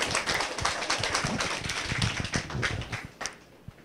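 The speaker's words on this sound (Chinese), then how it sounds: "请大家以热烈掌声欢迎" An audience claps to welcome a speaker at a lecture session: a dense, even patter of many hands for about three seconds, then a few scattered claps as it dies out.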